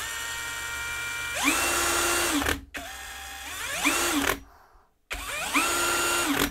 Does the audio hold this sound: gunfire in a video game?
no